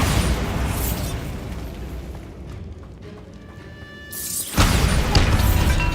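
A Bombarda blasting spell goes off in the Hogwarts Legacy video game: a broadband roar fades to a quieter stretch, then a loud explosive burst erupts and rumbles on.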